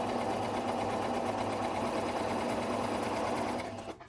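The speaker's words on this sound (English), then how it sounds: "we're just going to make one straight stitch down" A sewing machine running a straight stitch, a steady close motor whir with rapid needle chatter for about four seconds before it stops.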